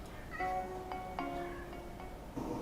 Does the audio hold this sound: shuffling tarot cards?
no